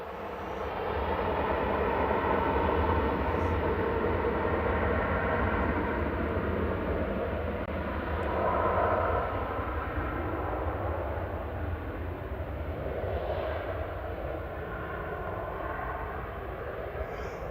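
A TUI jet at Manchester Airport roars steadily for the whole stretch, a broad continuous engine rumble with a slight swell around the middle, moderately loud and without talk.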